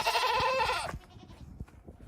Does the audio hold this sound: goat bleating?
yes